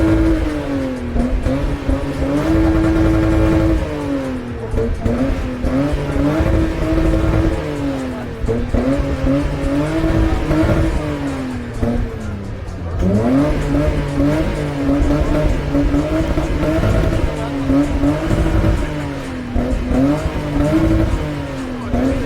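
A 3-liter petrol Lexus revs hard at a stance car meet in Šurany during an exhaust decibel test, its loud engine note climbing and falling in repeated sustained pulls close to the microphone.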